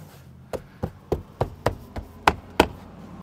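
A Ford F-Series truck's front door trim panel is pressed onto the door, its plastic clips snapping in as seven sharp, evenly spaced knocks that grow slightly louder toward the end.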